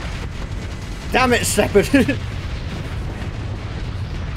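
A special beam cannon in the space combat game Starsector fires and explodes in a short rumbling burst of booming blasts lasting about a second, with a voice layered over the bursts.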